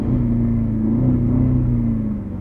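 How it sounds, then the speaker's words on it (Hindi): A Jaguar XJL's 5-litre V8 exhaust revs in a deep, loud rumble heard close up, the engine note holding and shifting slightly in pitch before easing off. "एग्जॉस्ट साउंड तो अंदर ही फील हो रही है यार"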